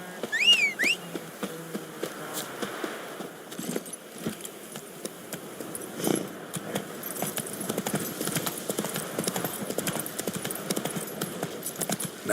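Roach, a horse in The Witcher 3 video game, trots with a steady, quiet clip-clop of hooves over soft ambient insect buzzing, with a few faint chirps near the start.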